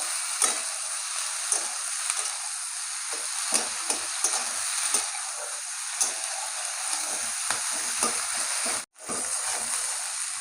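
Onion, yardlong beans and potato fry together in a pan, a bright steady sizzle with light stirring clicks throughout and a momentary drop out near the end, no speech.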